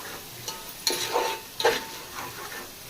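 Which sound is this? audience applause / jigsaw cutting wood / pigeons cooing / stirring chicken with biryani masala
stirring chicken with biryani masala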